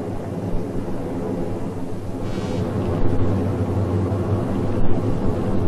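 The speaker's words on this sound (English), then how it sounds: "Helicopters probe the darkness for men in the water or on the deck." Helicopters fly in darkness over a burning ship at sea, a steady low rotor and engine rumble that stays loud and even throughout, with no voices.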